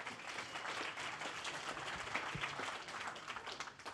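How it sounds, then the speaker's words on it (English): Audience applause at a Kubernetes meetup, a dense, steady wash of clapping from a room of attendees lasting several seconds, moderately loud with no voices over it. "A big round of applause for Monzo."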